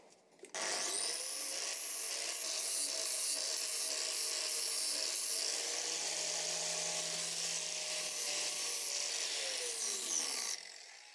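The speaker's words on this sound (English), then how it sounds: "So I'm just doing this with an angle grinder" An angle grinder dresses the face of an old steel hammer head in one continuous, steady abrasive whir with a faint tone sliding down as it winds off.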